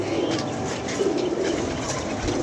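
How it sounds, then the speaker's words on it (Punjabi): Soft, low pigeon coos repeat through a steady background murmur, fairly close and continuous, with no voices, from a Faisalabad pigeon. "ਇਹ ਫੈਸਲਾਬਾਦ ਵਾਲਾ ਕਬੂਤਰ ਸੀ"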